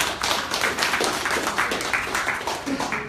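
Audience hands clapping steadily in a hotel ballroom crowd at an event, a dense continuous round of applause with rhythmic claps throughout, fairly close and loud.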